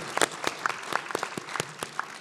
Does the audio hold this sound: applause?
yes